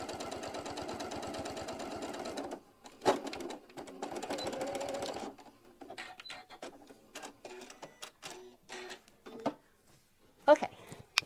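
A sewing machine runs in bursts, stitching all the way around a piece before applique: two rapid runs of needle strokes, then pauses broken by small clicks and handling noises, with a person talking during the quiet gaps.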